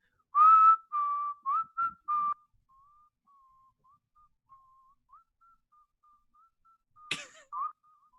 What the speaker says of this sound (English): Give us a Kill Bill whistle then.